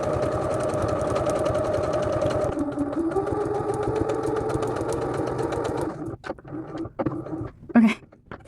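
A sewing machine stitches a foundation paper pieced quilt block, running with a steady, rapid mechanical whir for several seconds before stopping. A few short stitching bursts and clicks follow.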